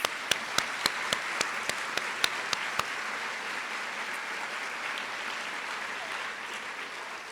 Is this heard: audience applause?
yes